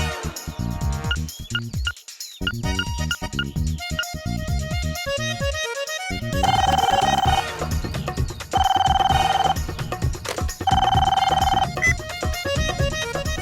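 A telephone rings on the line after a call is placed from a house, three long repeated ring bursts with pauses between them, over a noisy background with music.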